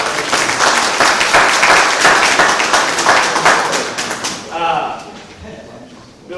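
Audience at a county candidate forum and coffee event applauds for sponsors, a dense, steady round of clapping lasting about four seconds before tapering off as talk resumes.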